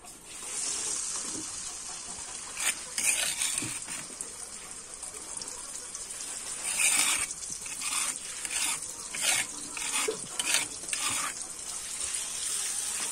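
Ground chili sambal cooks in oil reused from frying fish, making a continuous hissing, bubbling sizzle with several louder surges of spatter; no voices.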